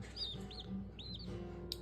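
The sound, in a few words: chickens clucking in their carrier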